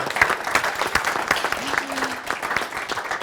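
An audience at a panel event claps in a lively burst of applause that lasts the whole clip, with some crowd murmur mixed in.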